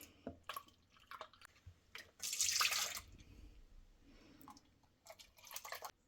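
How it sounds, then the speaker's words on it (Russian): Milk is poured into a mixing bowl, making a quiet liquid splash and gurgle that builds in a short burst in the middle, with faint dripping and kitchen clatter before and after. "Вливаем в миску 380 мл молока."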